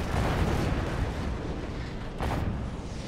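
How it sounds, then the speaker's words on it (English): Artillery units lobbing shots during a Planetary Annihilation match on a lumpy planet, a rumbling wash of dull explosive booms and bursts layered together without speech. "Pelters lobbing off shots"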